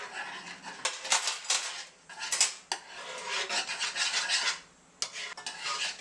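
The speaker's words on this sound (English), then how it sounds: "If you don't constantly whisk this, it's gonna start to stick at the bottom" A whisk scrapes and stirs Jamaican peanut porridge in a metal pot in close, continuous rhythmic strokes with a few brief pauses, and no voices.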